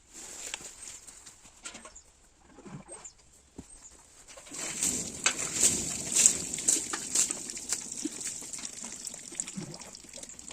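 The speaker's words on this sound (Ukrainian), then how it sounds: "змиваємо водою" Water splashing and spraying against a car while rinsing off shampoo, starting softly with scattered drips, then a steady louder stream from the middle onward, close by.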